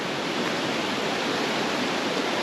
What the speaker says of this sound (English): Beautiful creek running down through this.